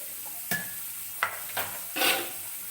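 Tempering spices crackle in hot oil for a green gram curry: a quiet background sizzle with four brief bursts of stirring and scraping, close up, with no one speaking.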